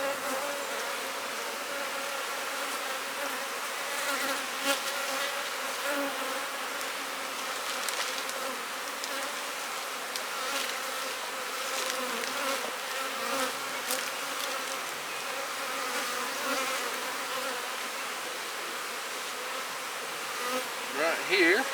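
A honeybee colony hums with a dense, continuous buzz of many bees close at hand, with individual wingbeats flaring louder now and then against the steady drone.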